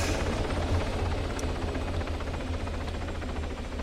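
A helicopter drones steadily through a combat session of the video game ARMA 3, a low, continuous rotor and engine rumble that holds at an even level for the whole stretch with no talk over it.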